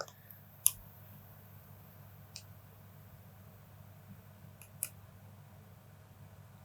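Scissors snip crystal flash while a fly is being tied: a few sharp, isolated clicks spaced seconds apart, close and quiet, against a faint steady room hum and no talk.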